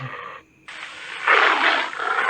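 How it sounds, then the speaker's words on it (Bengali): A tiger roar sound effect from a video-editing app's library, a broad rough roar building louder over about two seconds after a brief gap, heard alone without speech. "আচ্ছা টাইগার"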